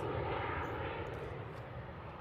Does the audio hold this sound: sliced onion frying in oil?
no